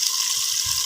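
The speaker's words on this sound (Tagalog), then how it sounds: "So, lalagyan na natin siya ng tubig. So, maglalagay muna ako ng 3 cups of water." Water poured into a pot of browned chicken pieces while cooking tinola, a Filipino chicken soup with chili leaves, makes a steady, close splashing hiss that lasts about a second.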